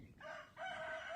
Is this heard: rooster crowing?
yes